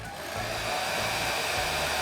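A hair dryer runs on a low setting, a steady airy whoosh with an even motor hum holding at a constant level from start to finish.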